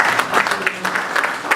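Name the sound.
audience applause welcoming the moderator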